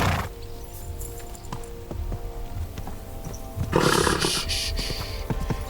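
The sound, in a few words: horse in video game Kingdom Come Deliverance II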